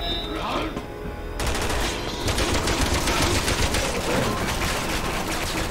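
Dense, continuous volleys of gunfire in Resident Evil 6, loud and overlapping bursts that keep going throughout.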